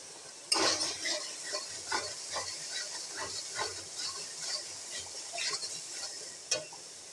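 A spice paste (masala) fries in hot oil for a potato curry while being stirred, a close, crackling sizzle and hiss with repeated scraping strokes from the spoon against the pan.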